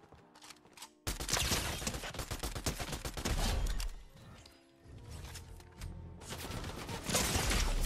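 Bursts of rapid gunfire in an online shooter lobby, loud and dense, cutting out briefly before resuming in long rattling volleys with no talk over them.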